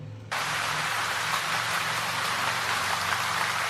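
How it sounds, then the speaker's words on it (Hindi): Steady heavy rain drumming on a roof starts abruptly after a brief moment and continues as a dense, even hiss close by, with no voices. "I like to here it on the roof, जब बारिश का पानी रूफ के ऊपर गिरता है, कुछ इस तरीके का।"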